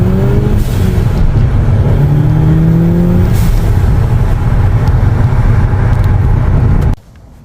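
A turbocharged Volkswagen Jetta accelerates hard onto a freeway, its engine droning loud and steady from inside the car with rising whine tones through the gears, then cutting off abruptly near the end.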